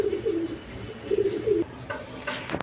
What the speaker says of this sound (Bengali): এক পেয়ার গররা কবুতর আছে, রেড কালার গররা